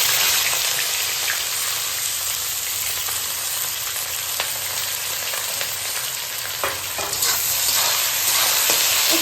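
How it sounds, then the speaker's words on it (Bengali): Onions frying in a pan, a loud continuous close-up sizzle with occasional faint stirring scrapes and no voices. "পেঁয়াজগুলো একটু ভাজা হবে, পেঁয়াজটাকে আমি লাল করে ভেজে নেব"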